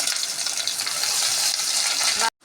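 Sliced green chili and onion sizzle loudly and steadily in hot oil with spices, a dense continuous frying hiss that cuts off abruptly near the end.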